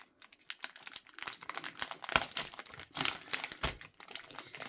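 Packaging is unwrapped from a haul parcel, giving close, quiet crinkling and rustling with irregular sharp crackles and small tears throughout.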